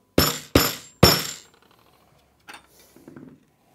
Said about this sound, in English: tap your wooden dowels in